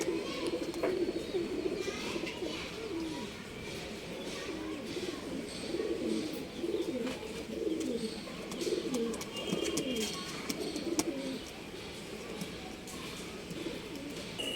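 Pigeons being readied for a flying contest coo softly and repeatedly in a loft, a constant murmur of calls under distant voices and children's background noise.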